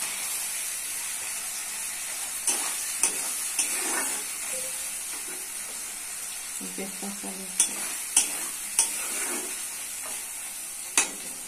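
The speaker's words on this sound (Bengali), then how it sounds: "মশলা কষা হয়ে গেছে, দিচ্ছি চিকেন" Chicken sizzles in a spiced masala for a Bengali chicken and potato curry, a steady hiss of frying with repeated scraping clicks and knocks of a spoon stirring the pan.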